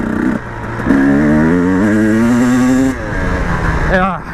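A KTM 300 two-stroke dirt bike revs hard in fourth gear, its engine note climbing and holding loud and close for a few seconds before dropping off, with a brief second rise near the end.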